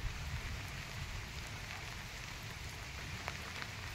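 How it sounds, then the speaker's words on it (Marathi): Steady rain falls in an eight-year-old custard apple orchard, a soft even hiss with occasional faint drop taps, distant and continuous throughout. "पाऊस चालू आहे आज पण"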